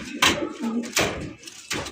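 Low coos of Rasgolla pigeons rise and fall close by, broken by sharp rustling flaps or clicks at intervals.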